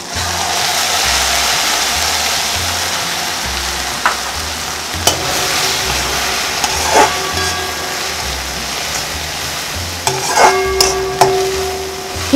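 Sprouted moth beans roasting in a pan with Kolhapuri red chili powder, a steady close sizzle under repeated scraping and stirring strokes, with occasional clinks of the spoon against the pan.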